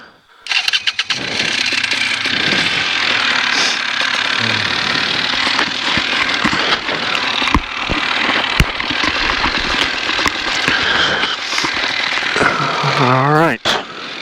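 A small propeller aircraft's engine cranks and catches, then settles into a loud, steady run with rhythmic pulsing close to the microphone, and voices speak over it.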